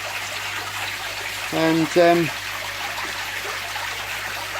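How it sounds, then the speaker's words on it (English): A garden koi pond waterfall runs with a steady, even splash and rush of falling water, continuous throughout, with a brief spoken word partway through. "Waterfall's still running nice and well."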